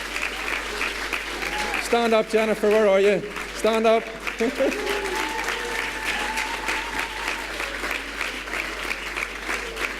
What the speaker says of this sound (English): Big round of applause for Jennifer.